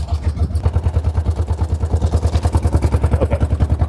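A 1906 Sizaire-Naudin voiturette's small engine chugs close by with a fast, steady, pulsing rhythm, a loud low throb with mechanical clatter as the driver finds reverse gear.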